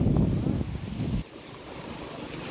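Strong storm wind roars in heavy gusts that buffet the microphone, loud and close for about a second before dropping to a lighter, steady rush.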